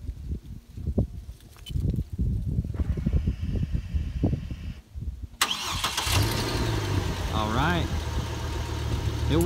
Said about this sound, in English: When I push and hold that button just to the left, that green light right here will turn on, and a few seconds later, the truck should start.